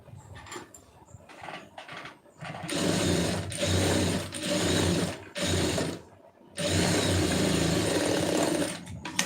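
Sewing machine running in several stitching bursts of varying length with short pauses between, loud and close, no talk over it.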